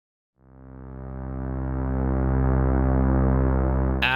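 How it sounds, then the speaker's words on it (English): A sustained, buzzy synth pad from the Destiny Cloud layer of the Infinite Motion Engine swells in from silence and holds a thick, rich drone with a gritty edge, loud and alone. "the Destiny Cloud is providing this gritty, nasty overlay to the sound."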